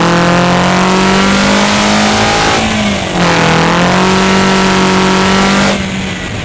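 Toyota Corolla E210 with a 2.0-litre engine, CVT and cold air intake accelerating in normal automatic mode, a loud steady engine drone that rises smoothly in pitch, dips briefly, then climbs again with no talk.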